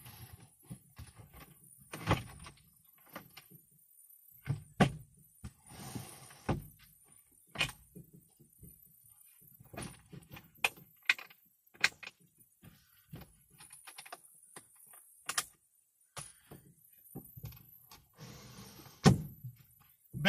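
A fold-up bed is stowed back into the wall of a very small camper van, heard as scattered close thunks, knocks and rattles with quiet gaps between them.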